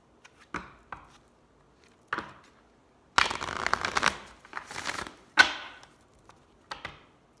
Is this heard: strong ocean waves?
no